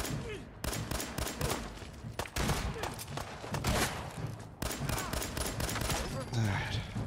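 Rapid bursts of gunfire from the video game Fallout 4 ring out loud and near, with dense volleys firing almost without pause across the whole stretch.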